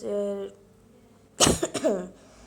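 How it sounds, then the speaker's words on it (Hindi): A single short cough bursts out near the mic, followed by a brief rough vocal sound, after a moment of quiet. "थोड़ी खांसी"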